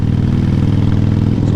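A Harley-Davidson Iron 883 Sportster engine rumbles loudly at close range beside a wall, a deep steady idle with a throbbing, pulsing exhaust note.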